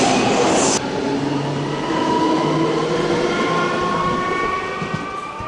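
A train rumbles and clatters steadily through a station, with metallic wheel squeal and rail noise sustained throughout, no voices.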